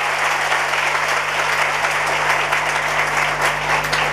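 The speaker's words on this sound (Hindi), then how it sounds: "ताली बजाओ, अभिनंदन करो उसका।" An audience applauds steadily, a dense, loud wash of many hands clapping at once that sustains without pause from start to finish.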